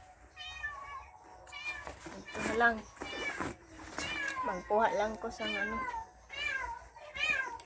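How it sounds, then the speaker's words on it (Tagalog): A house cat meows several times at close range, its calls rising and falling between stretches of a person talking in Filipino. "Hoy, ang ingay mo, pusa ka."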